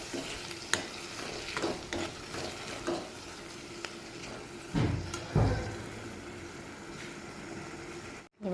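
Half-cooked dal being stirred and mixed in a pan, with soft scraping strokes and a light sizzle throughout, a couple of louder stirring clatters near the middle, no talking.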